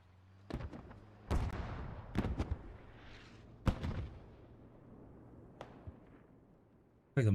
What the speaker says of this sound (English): Like the mortars have finally gotten on point.